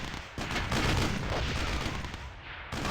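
Mortar fire in the Battle Islands video game makes a dense, continuous barrage of booms and crackling blasts that overlap into a loud rumble throughout, with no talking.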